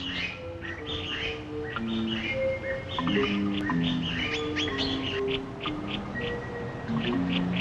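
Formosan blue magpies at their nest give a lively mix of chirps, tweets and short whistled tones, overlapping and continuous, moderately close and clear with light background hiss.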